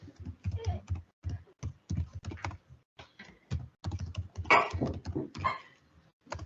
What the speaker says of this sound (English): So let me just type in ChatGPT.